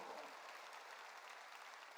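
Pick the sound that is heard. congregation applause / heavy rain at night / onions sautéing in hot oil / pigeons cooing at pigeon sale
congregation applause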